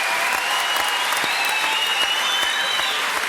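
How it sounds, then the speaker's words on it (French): TV studio audience applauding on a French talk show: dense, continuous clapping at steady loudness, with a faint tonal whine drifting through it. "Applaudissements quand même."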